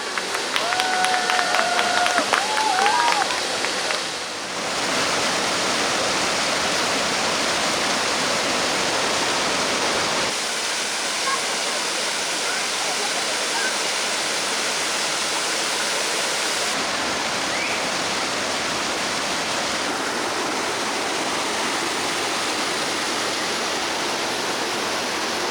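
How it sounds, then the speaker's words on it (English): Rushing water pours down the historic 300-year-old cascade water features of Kassel Wilhelmshöhe mountain park, a steady loud roar that swells and continues throughout, with a murmuring crowd of visitors faintly beneath. "The water is coming."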